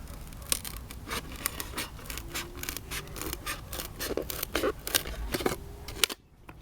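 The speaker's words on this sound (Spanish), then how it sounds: "vamos a ver cómo con las tijeras lo hacemos de la mejor manera posible. Fijaros bien que corto primero las esquinas" Scissors snipping the corners of a recycled plastic tray, a close run of quick crisp cuts with scraping and crinkling plastic, ending abruptly, with no talk.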